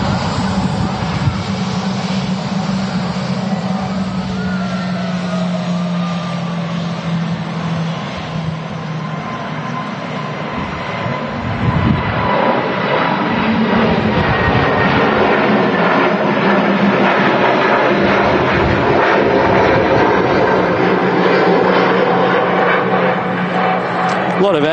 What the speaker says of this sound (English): the Lufthansa heading back to Munich, A330neo